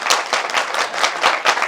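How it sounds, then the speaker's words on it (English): Loud, close applause from an audience at a home program in Auckland, New Zealand: many hands clapping in a dense, uneven patter throughout, with no speech over it. "We got all the clapping there."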